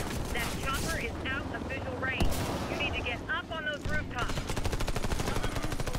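Rapid automatic gunfire in the co-op shooter Warface, close, loud bursts and a sustained stream of shots tearing into a building, with a sharp blast midway and voices talking over it.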